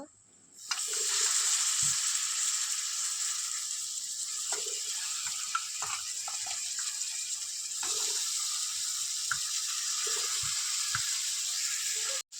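Local chicken pieces fry in a pot while a spoon stirs and scrapes them, under a steady close sizzle. The scrapes and knocks are intermittent, with a short clank near the start.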